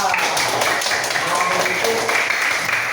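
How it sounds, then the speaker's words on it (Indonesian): A classroom of students claps together, a dense, steady burst of hand claps lasting a few seconds with a little voice mixed in. "Oke, tepuk tangan untuk Eka."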